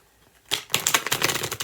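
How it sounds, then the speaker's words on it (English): A deck of tarot cards is shuffled in a quiet room: after a brief silence, a quick burst of crisp, papery riffling and flapping runs close and fairly loud to the end, with no voices. "Let me shuffle these up again."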